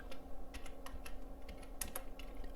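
Keyboard clicks as a search is typed into a web browser, a quick irregular run of taps over a steady low background hum, close and moderately quiet, no speech.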